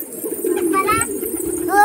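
Pigeons cooing close by in a domestic setting, soft repeated throaty coos with a few brighter calls, while a person speaks at the same time.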